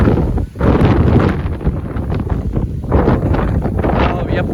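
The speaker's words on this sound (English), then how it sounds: "Wind gusting right now." Strong wind gusts from Hurricane Milton roar and buffet the microphone at close range, a loud, continuous turbulent rush with brief dips and surges.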